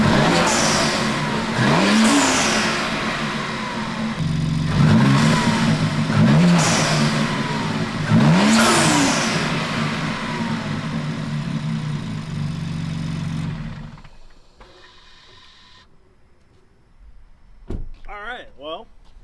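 A BMW X3M with cold air intakes starts up and revs repeatedly, loud rising engine roars with intake noise over about 13 seconds, then the engine goes quiet before a brief sound at the end.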